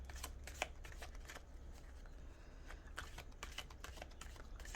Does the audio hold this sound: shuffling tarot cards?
yes